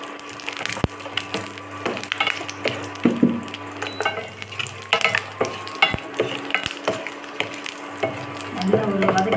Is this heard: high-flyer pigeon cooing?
no